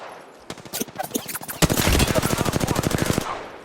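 Rapid automatic gunfire from the video game Apex Legends, sparse single shots at first, then a loud, sustained burst of evenly spaced rounds that stops abruptly.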